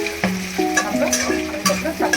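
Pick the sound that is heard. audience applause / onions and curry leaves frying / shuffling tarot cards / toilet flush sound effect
onions and curry leaves frying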